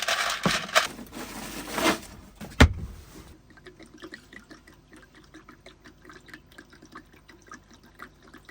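Ice-cold water poured over ice in a cooler in a camping van, a loud splashing gush at first that thins into a quieter trickle with small drips.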